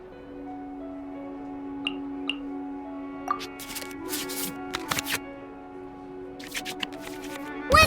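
Cards shuffled back into the deck in the Genshin Impact card game, heard as a few soft riffling bursts and short shuffling swishes over a steady sustained musical tone.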